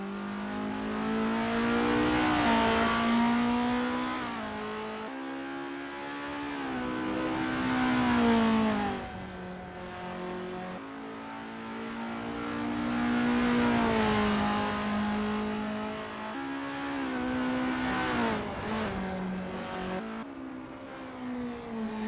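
Race cars warming up at the Hungaroring in 1988, several engines revving and whining in rising and falling sweeps, loud and close, with cars passing by through the clip.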